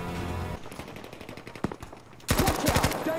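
Gunfire in the Battlefield video game: a rapid machine-gun burst rattles, then goes quieter with scattered shots, and a loud, close automatic volley returns near the end.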